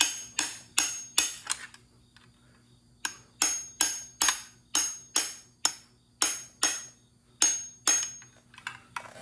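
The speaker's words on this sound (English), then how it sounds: "then I just take a hammer and I tap that thing" Sharp metallic hammer taps on a metal part of a 1936 Plymouth under reassembly ring out in quick bursts of three or four, pausing between groups, close and clear over a low hum.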